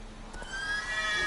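Roach the horse in The Witcher 3 gives one short, rising neigh, loud and close, with no voices over it.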